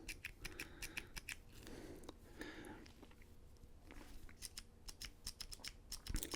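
A copper Big Idea Design Slim Click pen clicked repeatedly, sharp close clicks in quick bursts near the start and again toward the end, with quieter fiddling in between.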